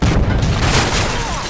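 A grenade blast in Modern Warfare 3 on PS3 hits as a loud, close, heavy boom, its low rumble and broad noisy roar filling the whole moment and sustaining without a break.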